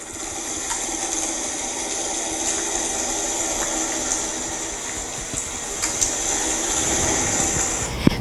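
Fishing vessel noise picked up underwater, a steady droning hum with a persistent high whine and faint scattered ticks and knocks, continuous and fairly loud throughout.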